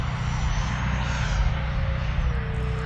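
A Freewing Hornet RC model jet climbs out after takeoff, a steady loud whooshing engine roar filling the air with a thin whine that slowly drops in pitch as it passes, with no talking.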